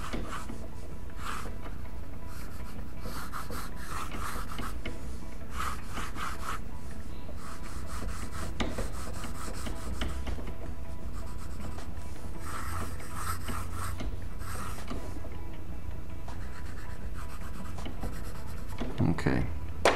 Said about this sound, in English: So I'll block it in with pencil.